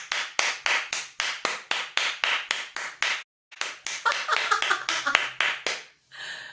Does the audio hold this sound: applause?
yes